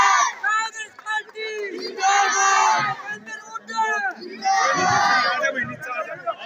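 Crowd cheering and clapping at an outdoor political rally in Kila Zafargarh village, Haryana, as a portrait of Bhagat Singh is presented; loud, sustained roars and applause in repeated swells throughout.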